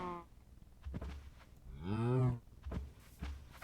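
A cow in a Minecraft game moos once, long and wavering, between soft clicks and scattered noises, with no voices.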